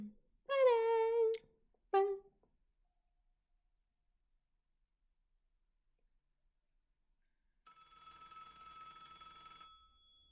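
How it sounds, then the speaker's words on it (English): A telephone rings loudly and steadily for about two seconds near the end, inside the Roblox horror game ALONE, following a brief vocal sound at the start and a long stretch of silence. "the phone is so ungodly loud."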